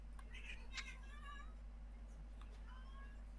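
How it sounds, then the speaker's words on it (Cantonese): A cat in the video game Don't Starve Together gives a few short meows, faint and clear against a steady low game hum, with a quieter one near the end. "應該隻貓叫。"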